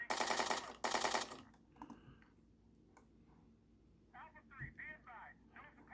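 Two long bursts of fully automatic gunfire from the video game Arma 3, loud rapid rattling at the start, followed by quieter radio-like voices talking.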